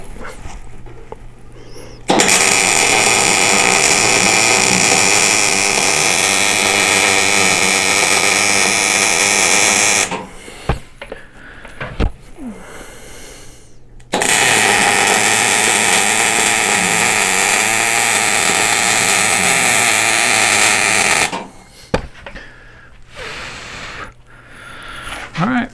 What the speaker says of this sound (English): so I moved my clamps out of the way right there so I can get me a couple good welds in there